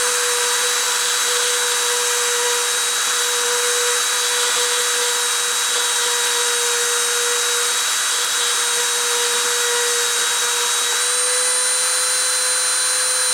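A machine spindle runs steadily with a constant high whine and sharp tonal lines, loud and alone without pause.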